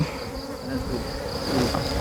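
Cavity-nesting honeybees buzz in a steady, close drone with a high whining tone and a swarming texture that swells slightly toward the end.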